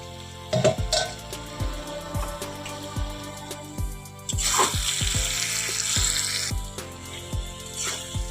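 Water is poured into a cooking pan of potatoes for a Bengali pointed gourd and shrimp curry, a rushing splash near the middle that follows several sharp clinks and scrapes of utensils against the pan.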